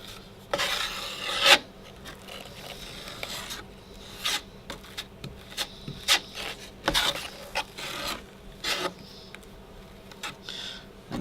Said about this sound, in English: We're going to grab a little bit of drywall mud here and just put it around the hole like we did last time.